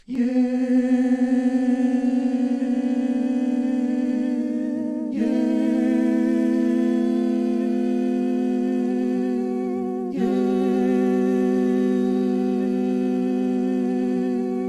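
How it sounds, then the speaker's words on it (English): A sustained, harmonically rich vocal tone, pitch-shifted with a plugin on each of three tracks, holds for about five seconds, then shifts and restarts twice, giving three long layered takes at slightly changing pitch. "we're going to put a pitch shifting plugin on each track"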